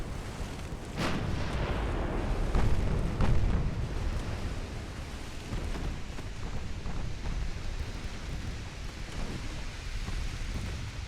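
Naval artillery thunders in an Ultimate Admiral: Dreadnoughts sea battle, with an ammunition detonation aboard the Danzig. Dense, continuous rumbling booms and blasts overlap at close range and loud level, with no voices.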